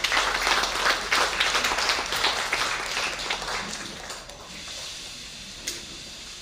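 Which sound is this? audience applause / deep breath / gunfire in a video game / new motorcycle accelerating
audience applause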